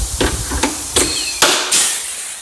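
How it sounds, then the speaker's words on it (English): A pop riveter sets rivets while a snowmobile is built up for burnouts, giving four or five sharp, loud snapping clacks at uneven intervals, each followed by a hissy decay, close to the microphone. "And then we pop a rivet in there that'll hold her in place."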